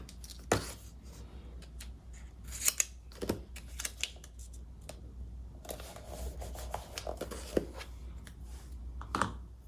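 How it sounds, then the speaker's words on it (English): Scissors snip paper for a craft journal, giving a few crisp close cuts spread among soft rustling and handling noises, fairly quiet, with no talking. "I'm gonna cut this a little bit."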